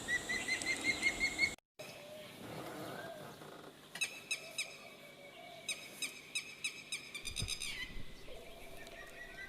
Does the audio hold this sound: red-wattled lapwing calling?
yes